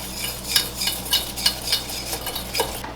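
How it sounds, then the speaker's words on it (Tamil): Cornflour being beaten into a custard mixture for fruit tarts, with a steady scraping and clicking of a whisk or spoon against a bowl, repeating in quick rhythmic strokes, close and fairly loud. "30 கிராம் கோன்மா சோளமாண்டு சொல்ற அதை இதுக்குள்ள ஆட் பண்ணுங்க இதையும் நல்லா பீட் பண்ணி விடுங்க"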